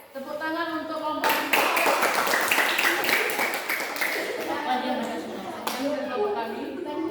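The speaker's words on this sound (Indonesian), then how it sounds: "tepuk tangan untuk kelompok" A group of students bursts into brisk hand clapping for a group after its presentation, filling the middle of the clip, with a person speaking before and after the applause.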